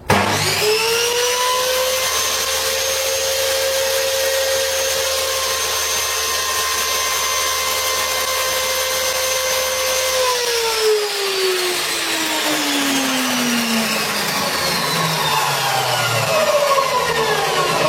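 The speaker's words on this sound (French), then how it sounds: "je vais faire fonctionner la scie, ça va faire du bruit" A combination table saw runs with a loud, steady motor whine, then its pitch falls as it winds down and coasts to a stop.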